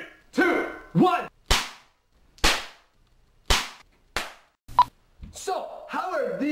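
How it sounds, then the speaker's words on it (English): Friction fireworks, small snap poppers that bang without any flame, go off in a series of about eight sharp cracks spaced roughly half a second to a second apart, loud and close, with voices reacting around them. "how are these fireworks able to create a bang without fire?"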